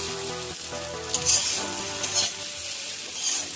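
Potato pieces fry in hot oil in a wok, giving a steady, dense sizzle with a few soft stirring scrapes, alone and close.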